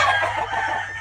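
A pet rooster crows loudly and close by, one sustained cock-a-doodle-doo with hens clucking around it, in a backyard flock in North America.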